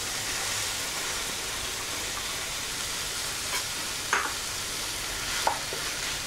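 Chopped onions fried to light brown in a pan with tomato puree give a steady close sizzle, with a few louder spatters and spoon scrapes near the end; no one speaks.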